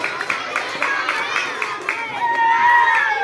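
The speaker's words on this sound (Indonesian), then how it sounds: "Beri tepuk tangan untuk Mas Fatih." A crowd claps and cheers in scattered bursts at a school language-month festival, with children's voices shouting over it, building slightly toward the end.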